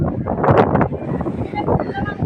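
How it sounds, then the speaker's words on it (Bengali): Strong, dusty wind buffets the microphone in loud, roaring gusts, strongest early on, with a voice partly buried beneath it. "কত জোরে বাতাস আসছে"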